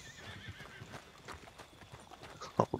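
Horse in a Wild West video game clip-clops along with soft, steady hoofbeats, then gives a brief sharp whinny near the end, all fairly faint.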